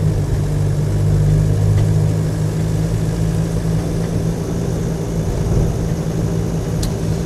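Land Rover 90 hardtop with a 2.5 diesel runs steadily at a low, even idle, a continuous close rumble with no voices over it.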